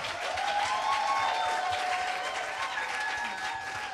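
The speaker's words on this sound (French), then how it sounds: "Une main d'applaudissement un peu plus fort quand même." A church congregation gives steady, full applause, many hands clapping evenly for the whole stretch with a faint murmur of voices underneath.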